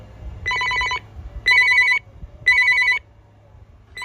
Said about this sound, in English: That's a traditional flicker ringtone.